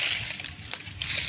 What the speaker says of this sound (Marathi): पाणी मारायचं